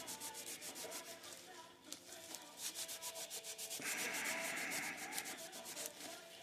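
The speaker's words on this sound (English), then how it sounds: "as much pressure as you can muster, and just rub the whole object that you're trying to chrome out." Graphite powder is rubbed hard onto a small figure to give it a chrome look, a quiet, fast rhythmic scrubbing with a brighter, harsher stretch midway.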